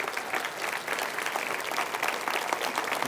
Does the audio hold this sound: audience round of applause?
yes